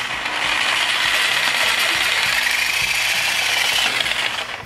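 A Sawzall reciprocating saw cuts through an old piece of pipe during a Bolens Ridemaster tractor restoration: a steady, loud, continuous buzzing rasp with rapid mechanical chatter, running nonstop close by with no talk.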